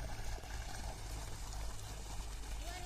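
Children splashing and slapping at water in a sandy farm irrigation channel, a steady, close rush of trickling, pouring water running throughout.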